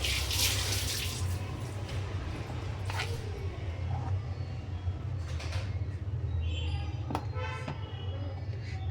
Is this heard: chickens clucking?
no